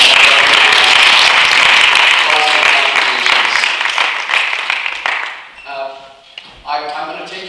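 Audience applause at a vision retreat, loud and dense for about five seconds before thinning into a few scattered claps, with a voice speaking as it ends.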